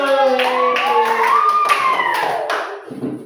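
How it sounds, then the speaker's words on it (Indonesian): Students in a classroom give group 1 a rhythmic patterned clap, several sharp hand claps in a beat, with voices chanting along and talking over it. "Kita beri tepuk kelompok 1"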